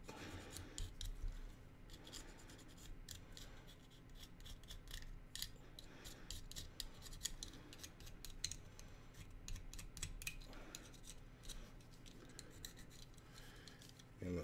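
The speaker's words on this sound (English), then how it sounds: "I'm gonna scratch up this back windshield a little bit." A sharp tool scrapes and scratches the back windshield of a toy car being modded for Gaslands, close and fairly quiet, with repeated short rasping strokes over steady background noise.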